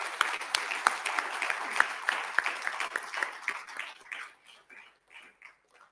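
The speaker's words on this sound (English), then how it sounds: "please give them another round of applause" Applause from the audience at a national pharmacy platform launch event, a run of sharp claps that thins out and fades into scattered, quieter claps.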